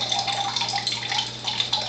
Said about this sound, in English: So first I'll just pour the water